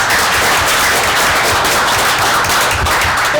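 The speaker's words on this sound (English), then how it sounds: "I think you all deserve a round of applause" Audience at a planning board meeting applauding: loud, dense, continuous clapping from many hands, steady throughout with no break and no voices heard over it.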